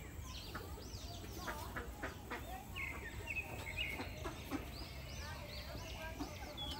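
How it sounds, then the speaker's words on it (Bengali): Chickens in a chicken and pigeon coop, with scattered clucks and high chirping calls at a moderate distance over low outdoor background noise. "মুরগি কবুতরের খোয়ার।"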